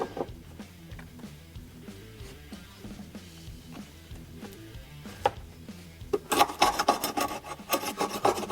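A file rasps against a Cub Cadet Ultima zero-turn mower blade, starting as faint scattered scrapes and growing into loud, rapid rhythmic strokes near the end.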